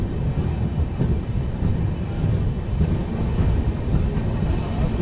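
The Poorva Express passenger train rolls through hilly country, a loud continuous low rumble with rhythmic clickety-clack of wheels over rail joints, heard from inside the coach.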